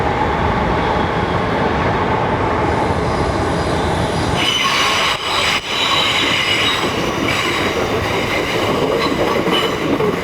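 A London train rumbles loudly close by, with high metallic wheel squeals rising and persisting over the steady roar of the cars.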